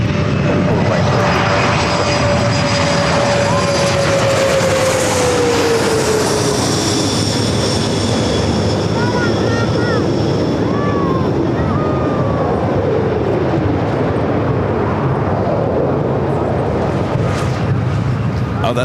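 A big jet at LAX roars loud and close for the whole stretch, its pitch gliding downward as it passes, with a voice faintly audible beneath the engine noise.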